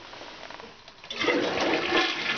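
A tank toilet flushes through a flow meter inserted to block the trapway, with a quiet hiss giving way to a loud rushing surge of water that runs steadily to the end, close up and without talk.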